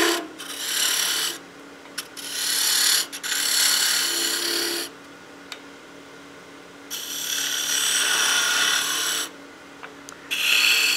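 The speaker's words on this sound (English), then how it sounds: "Use my skew as a peel cut." Long hissing, scraping bursts of a skew chisel taking peel cuts on spinning wood on a lathe, several passes separated by quieter gaps with the lathe's hum underneath.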